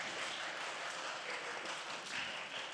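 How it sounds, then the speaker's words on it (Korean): Church congregation applause during a revival meeting, a steady, dense clapping of many people that sounds fairly distant and soft, continuing evenly for nearly three seconds without voices on top. "이때도 다 박수를 치던데 안 치세요?"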